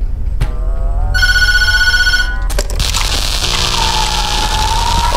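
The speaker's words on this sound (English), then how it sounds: "Phone's ringing." A telephone rings in the Tattletail horror video game, with a loud electronic bell tone cutting in after a short sound, then a clatter and rumbling game noises as the ringing fades.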